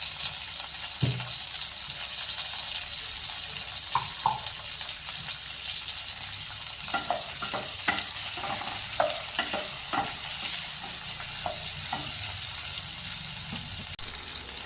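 Chopped onions, mango pieces and ginger sautéing in a pan for a brinjal and dried anchovy curry, a continuous close sizzle broken by scattered scraping stir strokes.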